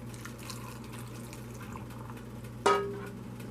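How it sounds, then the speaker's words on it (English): Broth ladled into canning jars of beef stroganoff base: a single splashy pour lands near the end, close and clear over a steady low background hum. "let's start ladling some broth in here"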